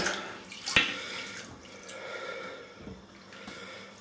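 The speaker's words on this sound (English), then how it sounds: "get some water in there." Water is added to Oatcake Soaps Lavender Melt shaving soap for lathering with a 22mm synthetic brush: a sharp splash near the start, then faint trickling and dripping close by.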